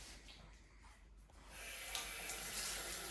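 Water rushes into a dishwasher in a house under renovation, a faint hiss that swells and turns louder and brighter halfway through, then holds as a steady spray-like fill.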